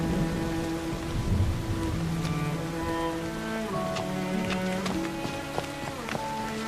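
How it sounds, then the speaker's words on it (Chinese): Rain falls steadily with scattered distinct drops in a period drama scene, heard under a sustained tonal music score. "下雨了"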